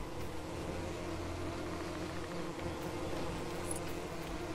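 Bees buzz in the LEGO The Hobbit video game, a continuous low droning hum that holds steady and moderately quiet throughout.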